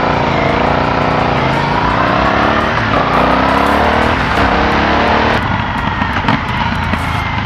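An Aprilia Shiver 900 naked motorcycle roars loudly up close as it accelerates and shifts, its engine note rising and falling, with popping backfire crackles on downshifts and wind rush around the rider.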